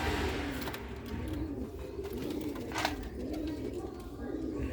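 Sialkoti pigeons offered for sale coo in a loft, a steady low cooing bed with a few brief brighter calls, while a voice speaks faintly in the background.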